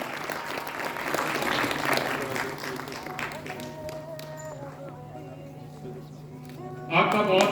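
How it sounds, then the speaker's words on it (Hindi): A seated audience claps to welcome a guest onto the stage at a party training event, sustained applause that gradually thins while an amplified voice speaks over it. "जोरदार तालियां बजाकर स्वागत कीजिए"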